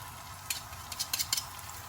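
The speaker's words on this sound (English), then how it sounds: "So it's sizzling away." Shallot and crushed garlic frying in a pan for moules marinière, a soft steady sizzle with a few brief stirring scrapes and clinks over low background hum.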